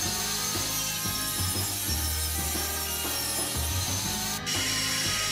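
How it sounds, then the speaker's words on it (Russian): A hand saw cuts through 15 mm plywood in steady, rhythmic back-and-forth strokes, close and fairly quiet, with no voices. "Размечаю 4 отрезка и распиливаю таким же способом."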